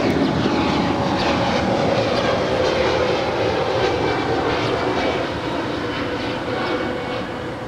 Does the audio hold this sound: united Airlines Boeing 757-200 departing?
yes